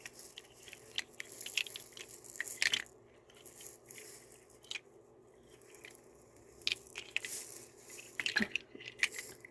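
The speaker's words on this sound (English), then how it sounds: "Water rattle." Close, soft sloshing and bubbly rattling as a water-filled rattle is shaken in irregular bursts, with quiet pauses between.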